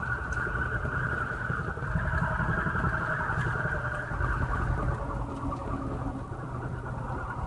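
Steady mechanical roar of a water turbine on a hydraulic brake test, spun to 270 RPM at half regulation and loaded down hard, droning evenly and loudly throughout.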